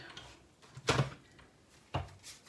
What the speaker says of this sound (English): And the noise you can hear is just because the plates are new.